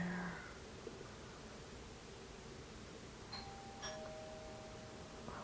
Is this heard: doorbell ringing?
yes